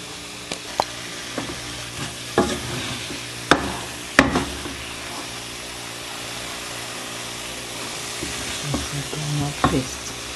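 Groundnut paste stirred in a pot as its oil separates, Cameroon style: quiet, continuous scraping and soft sizzling, punctuated by a few sharp clunks of the spoon against the pot.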